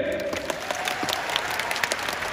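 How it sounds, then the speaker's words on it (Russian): Audience applause at a televised song awards ceremony, brisk scattered clapping from a crowd that stays steady and moderately loud through the short stretch. "Аплодисменты."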